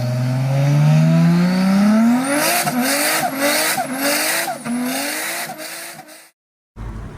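2022 Audi RS3 with its 2.5-litre turbocharged engine accelerating hard, the loud rising engine note climbing through several gears with sharp breaks at each shift, then a brief cut to silence.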